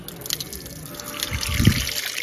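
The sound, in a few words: water running at temple hand and foot washing spot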